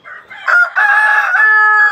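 An Aseel rooster crows loudly and close by in one sustained, bright, strained call that runs the whole short stretch, with no other sound around it.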